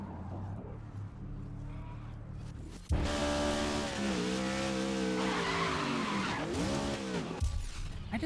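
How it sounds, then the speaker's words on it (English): Race car sliding with tires squealing in the racing game Grid 2019, a loud sustained skid with a shifting engine tone that begins suddenly around three seconds in after a quieter engine drone. "Why does this car slide out so much?"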